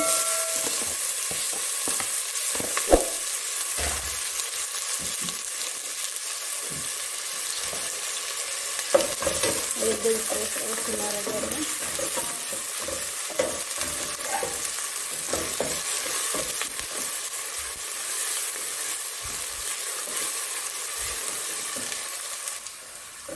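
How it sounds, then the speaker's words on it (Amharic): Chopped onion fries in a generous layer of oil in a pot, a continuous bright sizzle with occasional louder crackles and scraping stirs, no voices over it. "ሽንኩርቱ እንደዚህ ከተጠበሰልኝ በኋላ"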